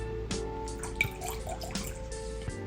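A small pour of vanilla extract into pancake batter gives faint, brief liquid drips and trickles over a steady low room hum, with no talking.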